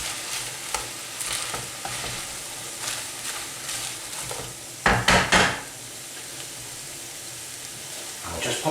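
Spinach and chorizo are stirred in a pan for chicken and chorizo pasta: a steady soft sizzle runs throughout, with light scraping and clinking taps of a utensil against the pan and a louder cluster of knocks midway, no speech.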